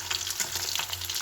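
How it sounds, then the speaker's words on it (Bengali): Fish sizzle as they fry in a pan for a fish curry, a continuous crackling hiss with small pops, close and steady, with no talking. "মাছগুলো এবার ভাজা চলছে"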